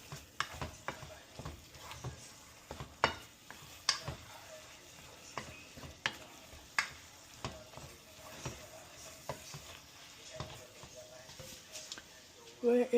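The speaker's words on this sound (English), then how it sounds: "Let me stir it up some more" A spoon stirs dirty spaghetti with turkey in a pot, giving repeated soft scraping and clinking strokes over a faint sizzle, with a final louder clatter near the end.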